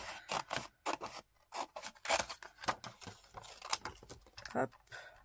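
Scissors snip through a transparent plastic gift pouch in a run of short, crisp, close cuts with brief rustling in between, over a quiet background.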